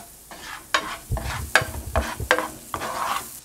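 Onions stirred in hot oil in a pan for Indian butter chicken, a soft sizzle under five or six distinct scraping strokes of a spoon, close and unaccompanied by speech.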